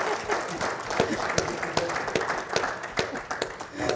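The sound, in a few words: audience applause at a lecture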